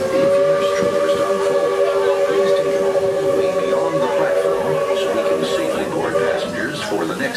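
A steam train on the Magic Kingdom railroad pulls into Main Street Station, giving a long steady whistle over a rumbling, clattering background while a voice speaks.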